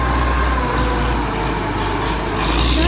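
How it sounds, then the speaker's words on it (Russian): A tractor engine rumbles steadily and loudly close by as it passes, a constant low drone, with no voices. "Трактор, да?"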